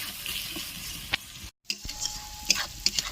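Kashmiri chilli powder and ground cumin being sautéed in a pan, a soft continuous sizzle with a few scraping stirs of a spatula and a brief pause midway.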